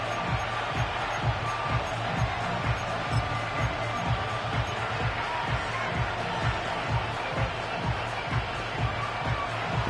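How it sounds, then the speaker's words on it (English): Game crowd noise from a Madden 25 football video game, a dense steady roar of fans with a rhythmic thumping beat underneath, loud and continuous late in the fourth quarter on third and long. "This crowd turning up the decibel level"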